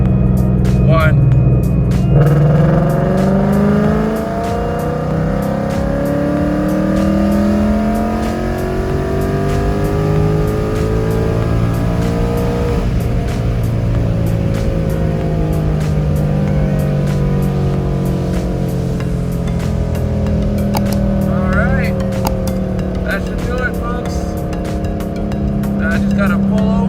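A Ford Mustang GT engine revs up from about 2,000 to 7,000 rpm, a loud, close, sustained climb in pitch that sweeps up, drops back and climbs again, droning throughout.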